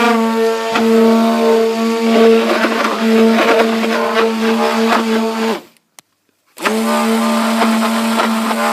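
An electric mixer whips whipped cream soap with a loud, close, steady motor whine. It cuts out briefly for about a second, then starts up again at the same pitch.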